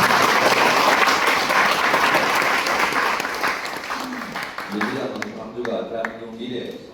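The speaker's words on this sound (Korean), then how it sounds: "동의하시면 박수를" Audience at a political party leader's rally in Gwangju breaks into loud, sustained applause that gradually thins out, with scattered claps and some voices emerging as it fades.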